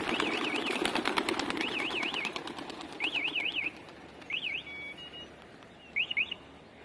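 A flock of racing pigeons, the males, released from a loft, with steady wing flapping and repeated sharp chirping calls that thin out as the birds lift off and move away.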